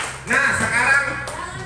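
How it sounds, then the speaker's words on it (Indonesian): Audience applause at a live mattress demonstration, a steady wash of clapping lasting over a second with voices and tonal sound mixed in. "Kasih tepuk tangan yang meriah."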